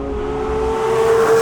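Naturally aspirated Porsche 911 GT3 Touring engine revs briefly, a loud close steady tone that climbs slightly over about a second and a half.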